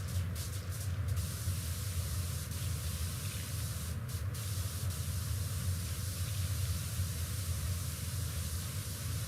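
Pressure washer spraying in the video game Pressure Washer Simulator 2: a steady, unbroken broadband hiss of water jetting runs the whole time at an even level, with no voices.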